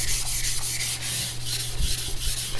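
A CCK Chinese cleaver is drawn across a King whetstone in quick repeated strokes, a close, gritty rubbing with a soft scraping rhythm and no voices.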